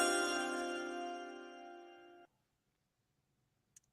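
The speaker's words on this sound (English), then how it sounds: "let's get the chimes" A bright chime for an NFL draft pick announcement rings out with a strong attack, holds a shimmering tone and fades for about two seconds before cutting off abruptly, followed by near silence and one faint tick.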